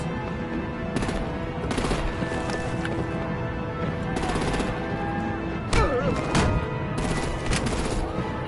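Bursts of gunfire and artillery in Batman: The Enemy Within, with several rapid volleys spread across the scene over a steady loud background of combat noise, plus heavier thuds near the end.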